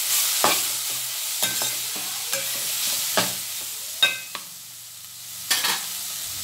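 Garlic and tamarind stirred in a frying pan, with a spoon scraping in about six distinct strokes over a low, steady sizzle; close and fairly loud, no voices.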